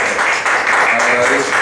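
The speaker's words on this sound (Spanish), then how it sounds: "recibamos con un fuerte aplauso para esta última conferencia al licenciado Eduardo Villarreal" Dense, loud audience applause in a lecture hall welcoming a forensic dentistry speaker, continuous clapping throughout with a voice mixed in.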